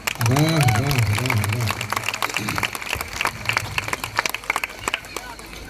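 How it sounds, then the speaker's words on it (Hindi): An audience at a Hindi poetry gathering (kavi sammelan) in Nawada breaks into clapping that tapers into scattered claps, following a brief burst of voice at the start. "तो एक बार आपकी तालियां आ जाएं"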